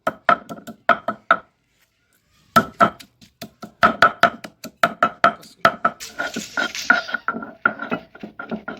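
Elephant apple pounded with green chilies and coriander leaves on a stone grinding slab, rhythmic hard knocks in quick bursts with a brief pause, then faster thuds and a scraping grind near the end.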